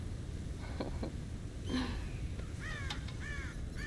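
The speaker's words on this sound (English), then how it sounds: "God damn crows!" Crows caw in the video game Red Dead Redemption, a few harsh calls sounding over a steady outdoor ambience, moderately loud and close, with no talking.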